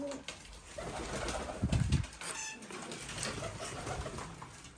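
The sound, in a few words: Iranian pigeons cooing in loft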